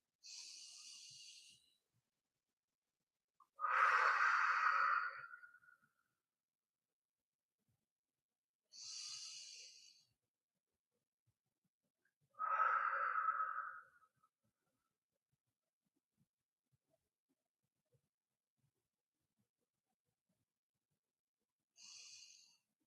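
Slow, deliberate deep breaths taken during a calming exercise, a few separate inhales and exhales spaced by long silent pauses, close and fairly soft, with no talking.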